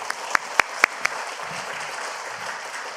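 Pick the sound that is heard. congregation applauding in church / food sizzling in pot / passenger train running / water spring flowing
congregation applauding in church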